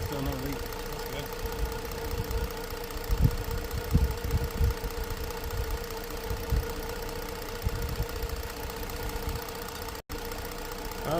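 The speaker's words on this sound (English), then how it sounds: "Well, it's been idling for about half an hour." A 2013 Ford Edge engine idles steadily after a valve cover replacement, a continuous low throbbing hum with a few heavier thumps early on, fairly close and moderately loud.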